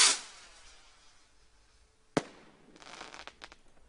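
Yellow firework rockets fire off in a shop's demonstration, one sharp launch bang standing out from a quiet stretch, followed by a flurry of softer crackling pops, heard from a moderate distance with no talking.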